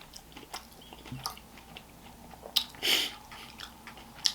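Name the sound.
chewing crunchy Birthday Cake Pebbles cereal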